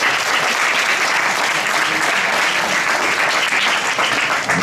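Audience at an inter-school house cup awards presentation gives loud, steady applause, many hands clapping evenly throughout without voices over it.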